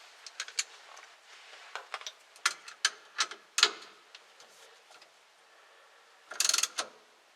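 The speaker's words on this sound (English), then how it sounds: "So now we just got to grab a socket and then tighten it up" A socket ratchet tightens a steering wheel puller on a 1966 Chevrolet C10, making scattered sharp clicks in short uneven bursts, with a faster clustered run of ratcheting near the end, close and crisp.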